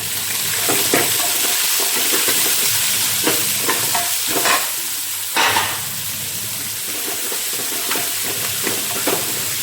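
Onions, garlic, ginger and green chili sautéing in a pan for pork curry: loud hissing sizzle throughout, broken by repeated scraping spoon strokes, close and without speech.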